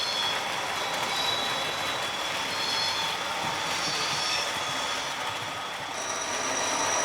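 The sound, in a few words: Class 37 locomotive pulling passenger train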